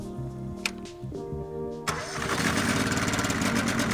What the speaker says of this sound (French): Tirez le starter et démarrez le moteur.